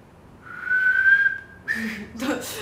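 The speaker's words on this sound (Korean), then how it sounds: "휘파람 할 수 있네요." A person whistles a rising, sustained note up close, followed by a short breathy sound and a second brief burst, with no talk over it.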